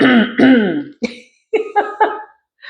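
A voice imitates coughing: a drawn-out vocal hack followed by a few short, rhythmic cough-like bursts, close and fairly loud.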